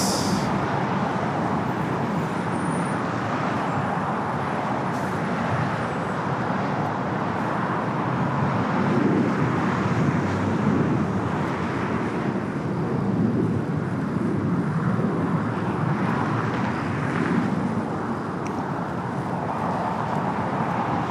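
A jet airliner lands on runway 25 left at LAX: a continuous, fairly loud engine roar and rumble that swells a little around the middle and then stays steady, with no talking.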